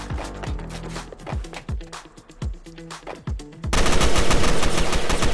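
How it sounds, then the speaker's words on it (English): Gunfire in the survival shooter Fallen: rapid, close bursts of individual shots in an irregular rhythm, then a dense, loud sustained roar of fire near the end. "How can he shoot me, bro?"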